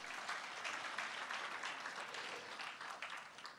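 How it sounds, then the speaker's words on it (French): Audience applause at a school-group event in a hall, steady dense clapping throughout, moderately distant and fairly quiet, with no talk over it. "Sous vos applaudissements"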